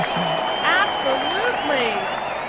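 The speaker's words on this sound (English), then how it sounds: "Do that round of applause." An audience on a radio talk show gives a round of applause, the clapping and light cheering sitting under loud, overlapping speaking voices.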